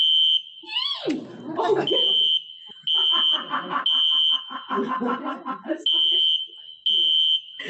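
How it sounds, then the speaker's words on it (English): A fire or smoke alarm sounds during an alarm drill, its loud shrill tone repeating in steady pulses with short gaps, while a voice calls out in between the pulses. "They are practicing their alarm"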